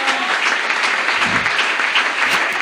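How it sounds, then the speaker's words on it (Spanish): Church congregation applauding during a Spanish-language worship service, a steady wash of many hands clapping together, fairly loud and continuous, with a faint voice underneath. "Dale un aplauso al Señor."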